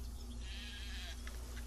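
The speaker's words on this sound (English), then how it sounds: "because there's a sheep over here." A sheep bleats in the video game Craft the World: one wavering bleat followed by a short second call, heard faintly over a low, steady hum of background music.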